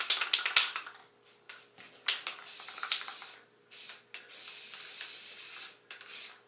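Purple spray paint hisses from an aerosol can in several bursts, first short clicks and puffs, then long steady sprays broken by brief pauses, close and loud without talk.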